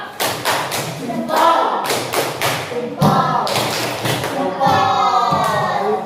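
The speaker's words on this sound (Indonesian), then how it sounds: "kita kasih tepuk jempol. Tepuk jempol." A classroom group performs a rhythmic thumb clap, a series of sharp, patterned claps in quick bursts with pauses between them, while children's and a teacher's voices are heard alongside.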